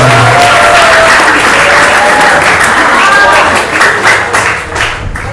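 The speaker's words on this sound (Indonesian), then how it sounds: "beri tepuk tangan yang meriah." Students and guests at a pesantren open exam on reading classical Islamic texts give a loud, lively round of applause, with voices and cheers mixed into the clapping before it thins out toward the end.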